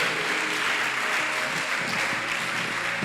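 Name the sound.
church congregation applauding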